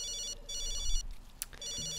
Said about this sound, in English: And now we got the urgent phone call